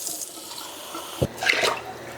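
Water poured into a pot in a home kitchen for cooking wild rice, a soft splashing trickle after a quiet lead-in, close and brief with no talking.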